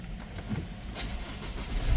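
Close starting of a 2021 Isuzu MU-X 1.9 diesel engine, heard from inside the cabin, with a short cranking burst settling into a low running rumble within two seconds.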